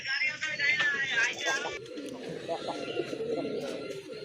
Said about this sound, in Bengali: জোড়া রাজগোল্লা কবুতর মার্শাল্লাহ বিগ সাইজের কবুতর